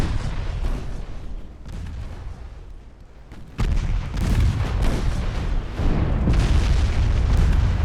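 Heavy naval guns boom in a pre-dreadnought-era sea battle game set in 1895 off Thailand, dense rumbling salvos with artillery thuds, easing briefly and then hitting harder and louder through the second half.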